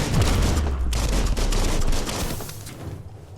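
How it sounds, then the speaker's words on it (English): A gun firing in the video game Biomutant: a dense, loud burst of rapid shots with a heavy low rumble, fading out toward the end, with no talk. "Can't fire the gun until it's completely reloaded."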